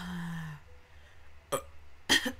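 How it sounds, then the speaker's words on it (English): A person lets out a short, low burp close to the microphone, followed after a pause by two brief, sharp bursts of sound. "You guys don't know how many times I have to edit myself burping out of my audios."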